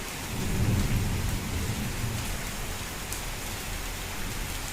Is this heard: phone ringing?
no